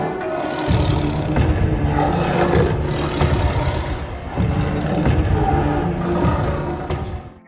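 A white tiger gives deep, rough roars in two long sustained bursts, loud and close with a gritty, rasping texture.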